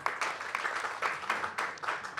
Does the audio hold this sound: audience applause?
yes